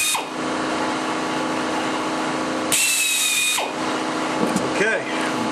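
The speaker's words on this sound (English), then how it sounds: "Drill away." A power drill whines loudly and continuously, its pitch shifting as it bites into an aluminum aircraft rib, with a short burst of higher-pitched drilling partway through.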